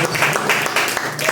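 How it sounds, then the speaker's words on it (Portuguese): A church congregation applauds during a worship service, giving a short burst of dense clapping that fills the whole moment at close range. "Vamos aplaudir Jesus?"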